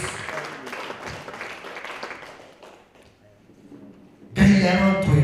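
A church congregation at an all-night Church of the Lord service claps and applauds loudly at the end, after a stretch of background noise and voices.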